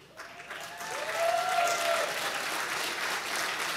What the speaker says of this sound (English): I want you to give an applause.